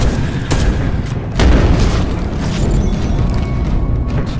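Missile launcher fire and heavy booms in the video game Space Hulk Deathwing, set aboard a derelict space hulk. Dense, loud, continuous rumbling with several sharper impacts, and no clear voice over it.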